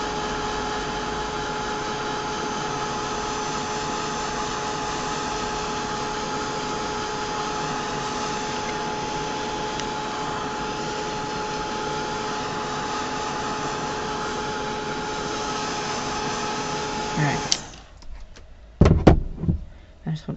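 A heat tool blows a steady, loud whir over craft work for most of the clip, then cuts off, followed by a few short clattering knocks.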